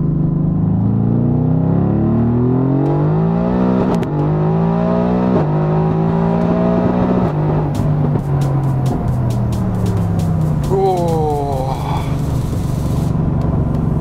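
A Mercedes-AMG GT R accelerates hard on a toll road, its loud engine climbing steadily through several gear changes, each shift dropping the pitch before it rises again, continuous and close throughout.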